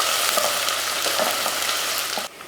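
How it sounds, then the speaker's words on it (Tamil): Small shallot onions sizzle in hot oil in a cooking pot as they are sautéed until golden for a mutton kulambu. A continuous close frying hiss carries faint stirring clicks and stops abruptly near the end. "ஒரு 100 கிராம் அளவுக்கு சின்ன வெங்காயம் நல்லா பொன்னிறமாக வதக்கிக்கலாம்"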